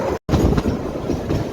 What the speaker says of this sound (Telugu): ఇప్పుడు ట్రైన్ జర్నీ చూపిస్తున్నాను, సిమ్లా టు కాల్కా